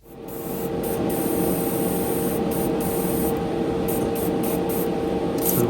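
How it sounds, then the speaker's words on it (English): Airbrush spraying green paint onto a miniature model, a steady close hiss of compressed air and atomised paint running continuously without a break for several seconds. "because we're spraying from the bottom up"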